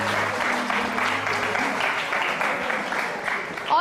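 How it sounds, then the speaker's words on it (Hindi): Studio audience on a TV entertainment show clapping steadily for two guests, a moderate, even patter of applause with a brief voice-like tone early on, fairly close and sustained. "बहुत सारी तालियां दोनों के लिए"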